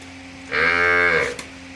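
A Cholistani Friesian cross cow gives a single loud, close moo that lasts just under a second, with quiet surroundings before and after.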